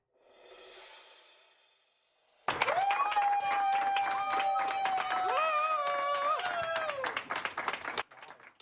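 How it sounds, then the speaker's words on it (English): University of Copenhagen chemistry department members applaud Danish Nobel chemistry laureate Morten Meldal in sustained group clapping for several seconds, while a voice speaks over it. "He was met with applause from members of the Department of the University of Copenhagen today"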